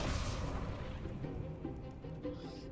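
A fiery Incendio spell is cast in Hogwarts Legacy, a dense low rumbling whoosh of flame that fills the whole moment and slowly fades, heard alone without speech.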